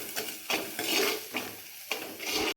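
Chopped ginger, garlic and green chilli get stirred into browned onions in a pan. Rhythmic scraping strokes sweep through a soft sizzle, up close and with no voices.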